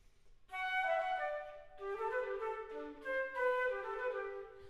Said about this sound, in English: let me play for you first how Telemann originally wrote this